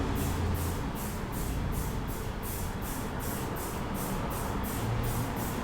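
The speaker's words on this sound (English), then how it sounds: "This is a perfect cap to have control of where you want that paint to go" A spray paint can fitted with a fine-control cap sprays in a steady, continuous hiss at close range, with faint pulsing as the nozzle is worked, and no voices.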